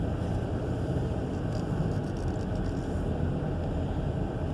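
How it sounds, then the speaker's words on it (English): Steady roaring wind buffets the microphone through open car windows while driving toward the highway, a loud continuous broadband rush with no pauses, filling the whole stretch with no voices. "apologize for the noise, get a little bit of air blast on here."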